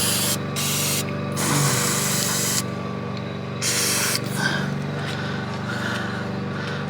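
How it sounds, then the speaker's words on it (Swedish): Aerosol cleaner sprayed onto fuel line connections of a 2006 Volvo V70 2.4 140 hp during a fuel filter change, loud hissing bursts starting and stopping over a steady low engine-bay hum, with no voices. "de här anslutningarna kan man faktiskt ta och spraya på lite på en gång"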